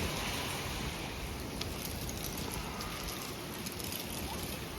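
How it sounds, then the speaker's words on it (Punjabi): Strong wind blows outdoors at 10 pm in Punjab under a heavily clouded sky, a constant broadband rushing roar that never lets up, with no voices in it. "ਬਹੁਤ ਜ਼ਿਆਦਾ ਹਨੇਰ ਚੱਲਦਾ"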